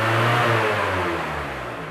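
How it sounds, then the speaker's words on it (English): A car engine revs up with the throttle raised while a dual-control throttle cutout system is fitted, a loud close engine tone that eases slightly as it settles. "bring up the revs of the vehicle"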